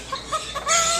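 A pet bird mimics a chicken, giving a short series of clucking notes up close, then rising into a louder, shrill squawk at the end, with no speech alongside.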